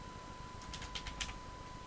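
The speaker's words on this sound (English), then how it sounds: "type in the menu name, hit enter" Soft, quick keystrokes on a computer keyboard, a short run of light clicks, close but faint over a steady hum.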